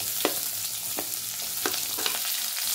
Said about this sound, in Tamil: அந்த பச்சை மிளகாவை அப்படியே எண்ணெயில் சேர்த்துடலாம்.